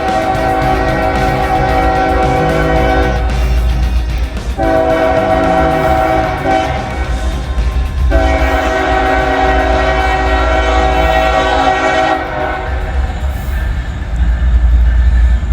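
A train rumbles past close by while its horn blares in long, loud blasts separated by short pauses, with wheels clattering underneath.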